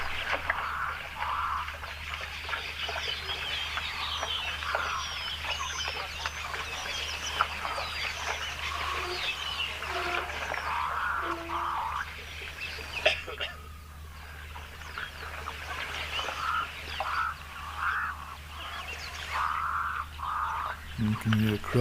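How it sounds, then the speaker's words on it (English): Birds call raucously and repeatedly in the background near a dam in the wild, a busy chorus of clucking, cawing cries over a steady low hum, with some scattered faint knocks. "You can hear the crows in the background as well."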